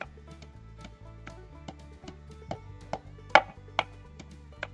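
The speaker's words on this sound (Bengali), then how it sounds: "এবার আমরা ধনে পাতাটা কেটে নেবো" A knife chops fresh, just-picked coriander leaves on a board, with light, evenly spaced taps at a steady rhythm. A few strikes land sharper and louder near the end.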